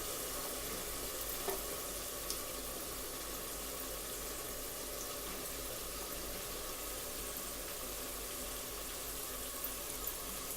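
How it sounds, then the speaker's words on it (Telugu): Okra and tomatoes frying in a pan of potato curry give a steady, close sizzle with soft crackling that runs evenly throughout, with no one talking. "ఇప్పుడు మనం బెండకాయల్ని కూడా యాడ్ చేసేసుకుందాం."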